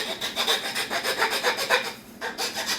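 Hand file rasping rhythmically against a wooden hockey stick plug, cutting small notches along its side; steady back-and-forth strokes, close and fairly quiet, with a brief pause near the end before filing resumes.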